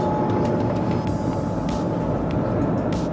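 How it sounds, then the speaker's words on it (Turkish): Steady low rumble and hum inside a maglev train travelling at about 430 km/h, with faint rattles and brief whooshing bursts over the constant drone. "Manyetik bir sistemle tren havada gidiyor."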